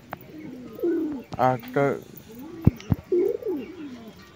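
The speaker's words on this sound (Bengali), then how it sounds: "তো বন্ধুরা 3টে ম্যাড্রাস পায়রা আছে" Madras pigeons coo in low, rolling phrases at close range, with a few bursts scattered through the clip while someone speaks briefly over them.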